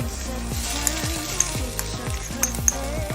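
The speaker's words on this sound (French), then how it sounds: "Ensuite je vais ajouter l'ail, donc là pas trop longtemps afin de ne pas brûler l'ail." Garlic sizzles in hot fat in a frying pan, a steady close crackle with scattered sharp pops and spits, heard alone with no talk.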